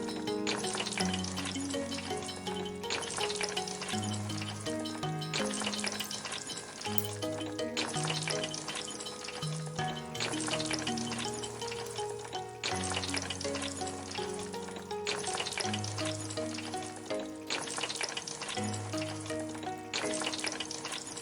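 Tiny fresh fish fry in a hot pan with a steady, dense sizzle and occasional stirring, close and continuous with no talking throughout.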